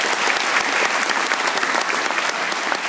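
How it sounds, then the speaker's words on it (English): A graduation audience gives a round of applause during a valedictorian speech, loud dense clapping from a large crowd filling the whole stretch evenly. "Let's give yourself a round of applause."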